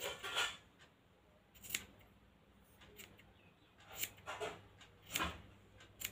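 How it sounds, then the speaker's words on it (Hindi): Scissors cut woolen yarn for a pom pom with several quiet, close snips in small clusters, separated by near-silent gaps. "दोनों हिस्सों को काट दिया हमने ये इस तरीके से इस साइड से भी हम काट लेंगे"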